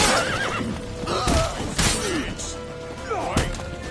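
A horse in The Witcher 3 neighs and whinnies during a tense in-game chase, loud repeated calls over clattering hooves and crashing action, with shouted voices mixed in.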